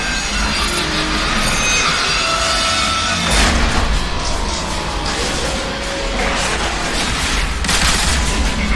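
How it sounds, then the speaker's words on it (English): Sustained gunfire blasts against emergency locks in the Transformers: War for Cybertron game, a dense continuous barrage with heavier bursts around the middle and end, over a droning mechanical background. "Open fire on the emergency locks!"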